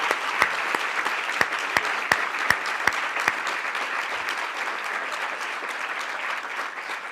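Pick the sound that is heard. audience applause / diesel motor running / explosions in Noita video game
audience applause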